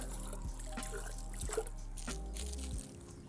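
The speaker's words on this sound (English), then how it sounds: "So this is just water. I rinse the blades in" Water trickling and splashing as knife blades are rinsed during handmade knife making, a steady liquid dribble with small drips and bumps of handling close by, no talk.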